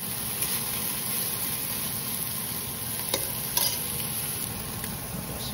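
Leftover barbecue chicken sautéing in a pan, a steady close sizzle with occasional clinks and stirring scrapes of a utensil, no talking.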